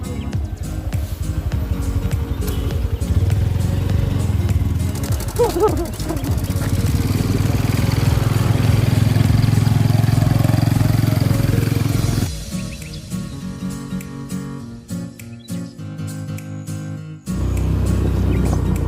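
A smoking motorcycle engine runs close by, a loud steady rumble that idles and revs unevenly, drops in level partway through, then returns strongly at the end.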